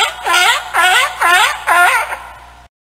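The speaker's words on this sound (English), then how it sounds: "Sea lion." A sea lion from an animal sounds app gives four loud, evenly spaced barking honks in quick succession, close and alone.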